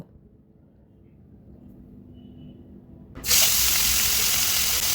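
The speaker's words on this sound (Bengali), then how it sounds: "আমার কাছে তো মাছ ভাজার এই একটা সাউন্ড আছে না, এটা এতটা ভালো লাগে কি বলবো" Fish pieces dropped into hot oil in a pan, a quiet low hum for three seconds and then a sudden loud, bright sizzle that bursts in and holds steady, close by.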